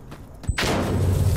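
A frag grenade blast in a video game arrives as a sharp thud followed by a loud, sustained burst of broadband noise that swells and lingers close by.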